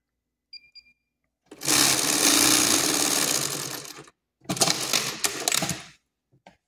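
Industrial twin-needle sewing machine topstitching the fly facing of basic trousers, running in one steady loud burst of about two and a half seconds, then a second shorter run after a brief pause, with small clicks at the start and end.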